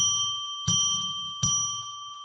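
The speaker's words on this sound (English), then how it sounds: "So let's ring a bell 3 times to declare sacred space" A bell is struck three times in slow succession, each clear ringing tone sustained and decaying before the next strike, close and alone with no voices.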